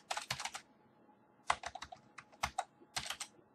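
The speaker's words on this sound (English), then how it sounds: "I peck at my keyboard instead of using home row" Rapid bursts of clicky keystrokes on a computer keyboard, typed in uneven hunt-and-peck clusters with short pauses between them, close and fairly quiet with no talking.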